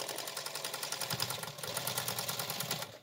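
A sewing machine stitches down leftover quilt binding scraps in a rapid, steady mechanical chatter, faint and close, running continuously with a slight change in pace partway through.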